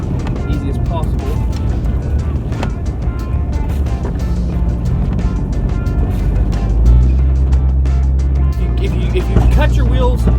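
Jeep XJ with a front locker driving through snow: a steady, loud engine and drivetrain drone heard from inside the cab, deepening partway through, with someone talking over it.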